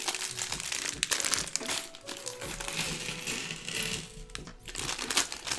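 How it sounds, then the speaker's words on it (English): LEGO set packaging for a Monkie Kid Yellow Tusk Elephant build crinkles and rustles up close, with sharp plastic crackles and small clicking pieces jostling continuously throughout. "Sorry about the crinkling."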